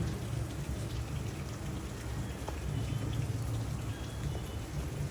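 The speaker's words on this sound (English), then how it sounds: "I guess just enjoying the rain." Steady rain falls and patters on surfaces at a zoo, a constant close hiss with no voices over it.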